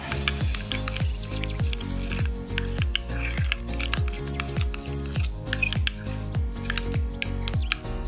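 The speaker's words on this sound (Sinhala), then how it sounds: "එතකොට හැම තිස්සෙම එකම පැත්තකට මික්ස් කරන්න" A mango and yogurt face mask is stirred in a bowl, giving soft, wet squishing and scraping in a steady repeating rhythm, close up and continuous, with no voices.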